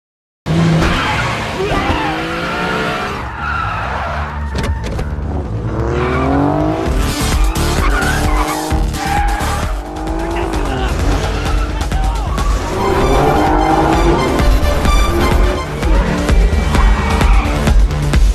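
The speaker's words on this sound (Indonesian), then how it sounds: "tiba-tiba mereka dikejar oleh dua mobil polisi yang sebelumnya sudah melakukan pengintaian dan kejar-kejaran pun terjadi" A car chase in which two police cars pursue a getaway car, with engines revving loudly and tires skidding and squealing in repeated long screeches, while a voice talks over the action throughout.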